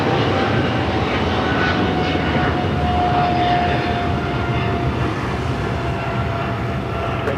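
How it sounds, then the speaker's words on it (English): A Boeing 777-300ER rolls for takeoff on runway 25 right at Los Angeles, a loud, sustained jet-engine roar with a steady whine running through it, holding strong and easing slightly toward the end. "777-300ER, flight 15 heading to Tokyo Haneda, now rolling down to 25 right"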